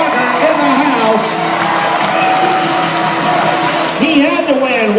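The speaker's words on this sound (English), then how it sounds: "Give him a big round of applause if you would, please." A large outdoor crowd at a tough truck competition claps and cheers steadily after a winner is announced, with whoops and an announcer's amplified voice carrying over the noise.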